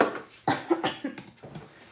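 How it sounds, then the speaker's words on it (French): A short fit of coughing close by: several rough, hacking coughs in quick succession, tapering off into quieter throat sounds. "Je tousse un peu."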